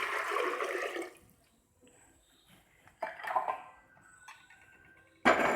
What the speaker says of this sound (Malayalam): നമുക്കൊരു കുക്കറിലേക്ക് വെള്ളം ഒഴിച്ചു കൊടുക്കാം.